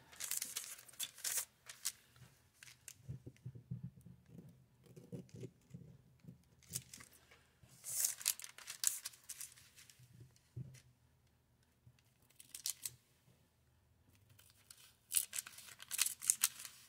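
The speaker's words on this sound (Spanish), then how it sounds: "vamos a cortar la parte superior y la parte inferior del lado izquierdo" Scissors cut through a glassine paper bag up close, giving bursts of crisp snipping and papery crinkling in short runs separated by quiet pauses, with no talk.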